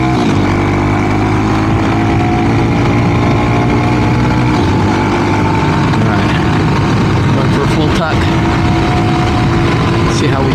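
Honda CT125 trail motorcycle with a 164cc engine running at high speed, a loud continuous engine drone with heavy wind rush throughout, the engine pitch climbing slightly, with a rider's voice faintly underneath.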